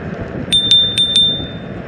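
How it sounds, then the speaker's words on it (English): A small bell on a Gotrax Eclipse Ultra electric scooter rings four quick times in a row, bright and close, over a low background rumble. "You also get here a little bell"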